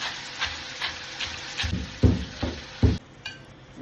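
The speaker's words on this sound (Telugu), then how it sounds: "టమాటా వేసినప్పుడు బెండకాయతో అంటే బెండకాయలు అవి వేగుతున్నాయి" Okra (ladies' finger) fries with tomato in a pan, a steady close sizzle broken by several soft scraping stirs with a louder cluster of strokes near the end, and no voices.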